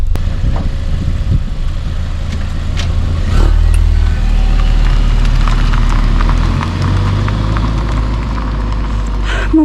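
Car engine fitted with a stainless steel exhaust, idling with a steady low drone and a few rises in revs, heard up close, with a clattering rhythm over the rumble and no talking.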